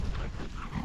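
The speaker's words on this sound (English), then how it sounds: "Dogs are playing." Dogs playing indoors make low, rumbling growls and scuffling sounds, a brief, close, muffled tussle with no voices.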